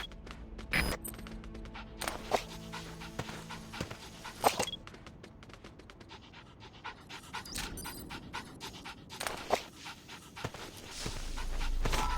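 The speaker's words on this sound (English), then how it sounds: "Wild dog pup. He's a tough little guy." A wild dog pup in the Metal Gear Solid 5 video game pants in quick, soft breaths with small whimpers, set among game sound effects and scattered clicks, fairly quiet with no voices.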